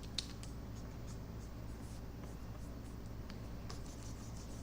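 A pen sketches an ear on paper in quick, faint scratchy strokes, with short bursts and brief pauses, heard close and alone.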